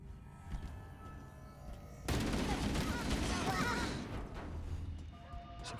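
Grenades burst in Halo: Combat Evolved gameplay, a sudden loud explosive blast that erupts and sustains a dense rumbling roar for about two seconds before tapering into lingering battle noise.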